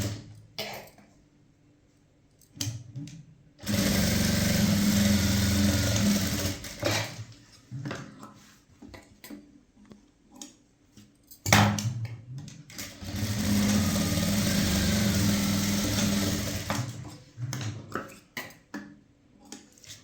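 A sewing machine stitches the shoulder seam of a blouse in two long, steady runs of rapid whirring, separated by quieter pauses with light handling clicks.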